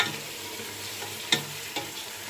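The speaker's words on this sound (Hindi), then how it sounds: "मसाले में अच्छे तरीके से हम भून लेंगे इसको।" Chicken frying in masala for an aloo chicken shorba, a steady close sizzle with two sharp clicks of a spoon against the pan.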